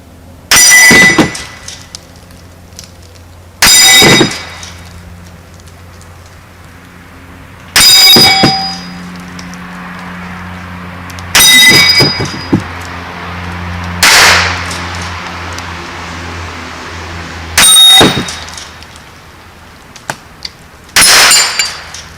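Seven sharp, loud rifle shots from a Browning BL-22 lever-action .22 firing 40-grain CCI standard-velocity rounds, spaced a few seconds apart. Each crack rings briefly, with quiet handling between shots and no speech.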